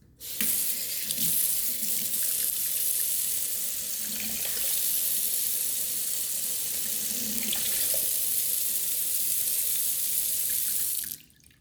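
Tap water runs steadily into a measuring cup, three-quarters of a cup, for about ten seconds, a constant hissing splash that stops abruptly at the end.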